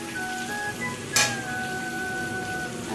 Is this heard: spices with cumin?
yes